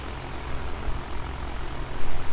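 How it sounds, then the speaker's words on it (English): Failing aircraft engines in Battlefield 1 drone and sputter in a loud, steady roar high in the air, with rough pulsing swells building toward the end and no voices. "And then the engines start failing."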